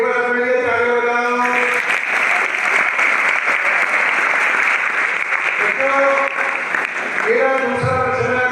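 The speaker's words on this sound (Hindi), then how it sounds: "एक बार अपने लिए ताली बजाओ।" Dense, sustained applause from a school audience of children, loud and continuous for the whole stretch with steady clapping throughout.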